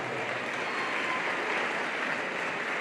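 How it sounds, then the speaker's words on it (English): A crowd applauds steadily at a netball championship grand final presentation, producing a continuous, even wash of clapping with no talking over it. "Why don't you give them a round of applause, folks?"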